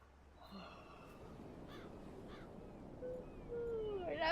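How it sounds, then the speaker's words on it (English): A crow caws a few times in the video game Black Mirror 3, faint and somewhat distant over a quiet, low background rumble. "Now it's gonna trigger me every time I hear a crow."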